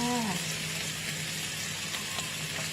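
Shrimp stir-fried with chili and garlic in a pan, a steady close sizzle of hot oil that runs the whole time, with a short clatter of stirring near the start.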